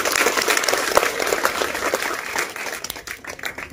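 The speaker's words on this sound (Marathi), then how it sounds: "सगळ्यांनी एकदा जोरदार टाळ्या वाजवा." A crowd at a school science event breaks into loud, energetic applause, dense and continuous for a few seconds before tapering slightly at the end.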